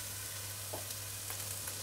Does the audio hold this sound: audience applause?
no